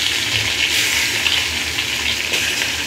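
Fish frying in oil for a Bengali curry produces a loud, dense, close-up sizzle that holds steady throughout without pause, with no one speaking.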